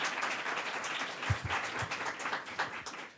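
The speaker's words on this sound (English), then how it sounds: "let's give them a round of applause for this really great panel" Audience applause for a panel at a Capitol Hill briefing, a brief burst of hand clapping from a room of people, moderately loud and continuous.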